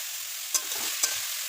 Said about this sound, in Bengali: এটা দিয়ে দেওয়া হয়েছে তেলের মধ্যে